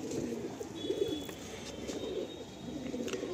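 Kalanka pigeons in a Madrasi pigeon loft in Howrah coo continuously in soft, low rolling bursts at moderate distance, with a faint thin whistle-like tone briefly above.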